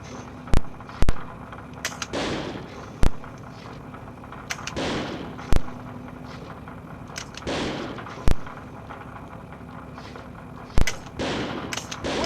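Gunshots at a shooting range in the video game Second Sight, sharp single reports spaced a second or more apart, each with a short echoing tail over a low background hum, loud and close.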